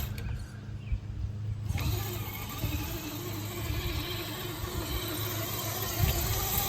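Small RC van towing an enclosed trailer, a faint continuous electric motor whine with gear hum, steady and close, speeding up slightly partway through, with no talk.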